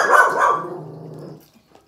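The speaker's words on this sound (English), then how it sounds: "My dog is gonna bark a little." A dog barks loudly and close by in a short burst of a few rough barks that trail off into a low growl, with no voices.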